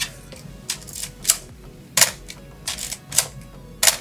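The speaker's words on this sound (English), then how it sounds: "Look at the sound of the shutter." Crisp mechanical clicks of a Topcon IC-1 35mm film camera shutter, fired several times in a loose sequence, close and clear against a quiet background.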